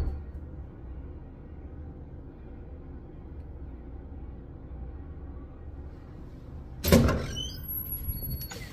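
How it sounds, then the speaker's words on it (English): A door at a roadside stop on a trucking trip is pushed open after a long quiet hum, giving one sharp clunk and rattle near the microphone, followed by a faint high electronic tone as a door alarm is set off. "I just opened the door."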